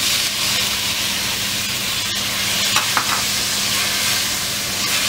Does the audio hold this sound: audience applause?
no